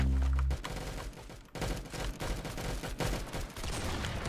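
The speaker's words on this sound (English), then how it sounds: "the Henry rifle" Henry rifle shots in the video game Arsenal: a loud boom at the start, then a rapid run of close, sharp shots and cracks that keeps going to the end.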